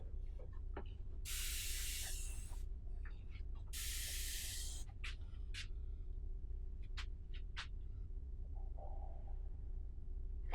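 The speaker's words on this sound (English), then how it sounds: "I want to spray different angles so I get all of the sides of the dense" Paint sprays from a spray can in two strong hissing bursts of about a second each, close and loud, followed by scattered small clicks and rattles from handling the can.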